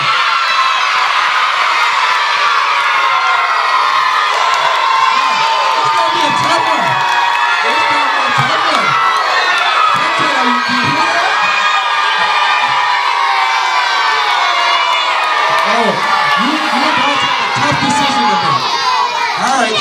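Children in a room cheer and shout together in a loud, sustained roar of high-pitched whoops and yells. It lasts throughout with no break, and a few adult voices are mixed in.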